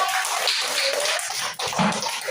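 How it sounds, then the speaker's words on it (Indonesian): Classroom applause from students clapping for their classmates, a dense, steady patter of many hands filling the room with little pause. "beri tepuk tangan untuk teman-teman"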